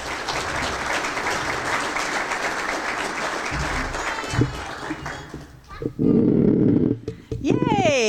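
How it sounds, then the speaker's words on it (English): An audience at an athletic hall of fame ceremony cheers and applauds steadily for several seconds, fading as the crowd settles, then a burst of voices and cheering rises near the end. "I like that cheering."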